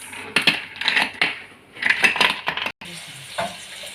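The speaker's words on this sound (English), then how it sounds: "now I'm going to add ice." Hard ice cubes clatter and knock into a blender jar of pineapple smoothie in a quick burst of sharp, rattling hits, close by, then a few scattered clinks.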